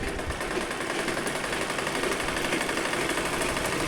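Electric sewing machine stitching a folded kurti sleeve along marked lines, a steady dense mechanical whirr that runs unbroken and fairly close throughout, with no talking.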